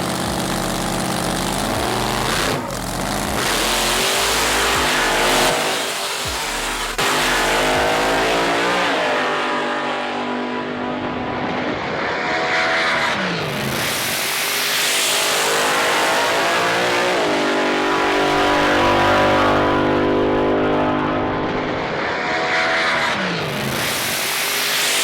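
A 1,300-horsepower drag race car with a Powerglide gearbox, loud and close at a private drag racing event, its engine revving hard with rising and falling sweeps and sustained roaring throughout.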